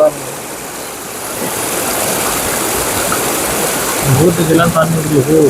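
Steady broadband rush of floodwater flowing over a road, loud and continuous, with a voice talking briefly near the end.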